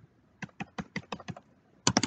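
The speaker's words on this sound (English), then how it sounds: "You can hear me aggressively hitting the keyboard, I can't type." A computer keyboard struck hard and fast: a string of sharp, evenly spaced key hits, then a closing cluster of louder strikes, close up with no voices.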